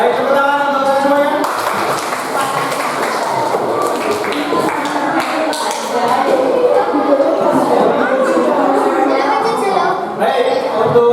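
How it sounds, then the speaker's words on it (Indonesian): A class of students in an Islamic religious education lesson claps for everyone after a formative assessment. It is a steady, lively round of applause mixed with overlapping voices and cheering. "tepuk tangan untuk semuanya"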